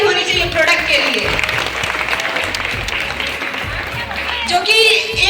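An indoor audience gives a burst of enthusiastic clapping for a product at a motivational talk, the applause swelling and carrying on steadily with a few voices mixed in.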